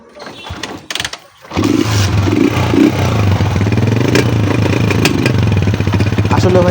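A used motorcycle for sale in Bangladesh is started and then idles steadily nearby, a low, even engine rumble with a steady chug, following some clattering handling noises at the start.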